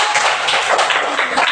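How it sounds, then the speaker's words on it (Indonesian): A classroom of students claps together in a brief, dense burst of applause, close and fairly loud, lasting under two seconds. "Tepuk tangan."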